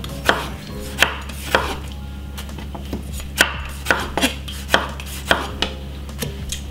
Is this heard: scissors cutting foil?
no